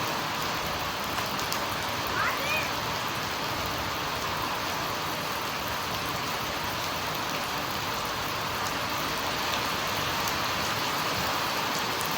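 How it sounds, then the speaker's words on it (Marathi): Heavy rain falls steadily as a dense, even hiss throughout, loud and unbroken with no pauses, with no voice clearly heard. "मेहनत घेऊन आणि असा जोर पाऊस आला आता"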